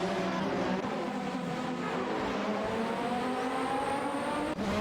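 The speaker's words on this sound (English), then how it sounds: "Gary Z in a Ferrari F1/87/88C and Duff Dad in a McLaren MP4/4." A Ferrari F1/87/88C and a McLaren MP4/4 race in a video game, their engines holding a steady, loud, high-revving whine throughout with no break.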